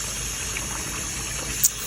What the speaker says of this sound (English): Just washing my rice really well, okay?